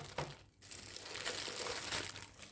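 Plastic packaging crinkles and crumples as juicer pitchers are unwrapped, a close, continuous rustle with a brief quieter pause early on and no talking.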